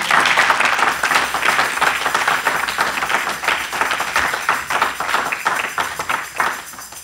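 A church congregation claps and applauds to acclaim Jesus: sustained, dense, loud clapping from many hands that continues without a break throughout.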